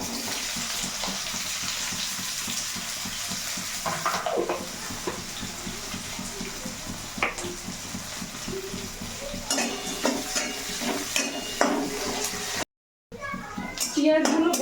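Chopped onions and whole cumin seeds sizzle in hot oil in a pan, a steady bright crackling hiss that runs throughout, with voices, including a child's, talking in the background and a brief dropout near the end.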